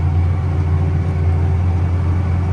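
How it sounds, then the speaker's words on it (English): A tractor engine labors under heavy load while pulling through soil, a loud, close, steady low drone with a deep throbbing rumble and no voices over it. "the tractor is just struggling a bit"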